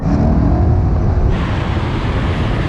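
Engines roar as a Ford Mustang Mach 1, Porsche Cayman GT4 and Porsche 718 launch in a drag race, the rising drone shifting midway as power builds; loud and continuous, with no talking.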